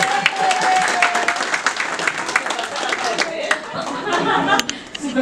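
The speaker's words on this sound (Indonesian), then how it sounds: "Kita beri tepuk tangan kepada DJ." Members at a Rotary Club joint meeting in Bandung clap together, a lively burst of applause mixed with chatter and a little laughter, with voices talking over it.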